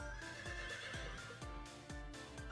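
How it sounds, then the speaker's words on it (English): A horse in a video game neighs over a rhythmic clip-clop of hooves, the thumping beats evenly spaced about every half second, loud and close, with no talking. "Was that a horse?"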